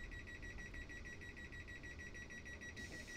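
Quiet, steady series of electronic warning beeps from a train's door-closing alarm in Train Simulator 2021, on the West Coast Main Line between London Euston and Birmingham, repeating evenly over a constant low rumble.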